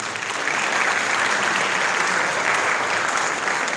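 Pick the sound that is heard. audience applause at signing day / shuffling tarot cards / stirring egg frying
audience applause at signing day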